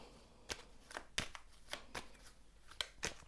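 Tarot cards being shuffled in a series of quick riffling bursts, several sharp papery flicks spaced irregularly across a few seconds, close and fairly quiet with no talk.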